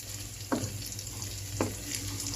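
Dried pork adobo fries in a pan with a steady, soft sizzle over a low hum, broken by two brief stirring scrapes, and nobody speaks.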